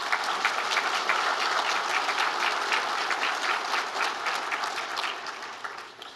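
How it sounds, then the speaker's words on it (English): An audience at a regional chamber annual meeting gives a sustained round of applause for the head table, a steady, moderately loud clatter of many hands that tapers off near the end. "How about a nice round of applause for our head table?"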